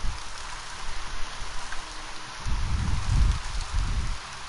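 Light rain falling steadily during a thunderstorm outdoors, a soft patter near the microphone with low rumbling gusts that swell and fade, no voices.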